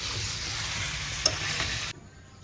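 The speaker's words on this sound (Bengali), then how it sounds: "লুচি ভাজা শুরু হয়ে গেছে।" Luchi frying in hot oil, a dense steady sizzle close up with one brief clink partway through, then cutting off abruptly near the end.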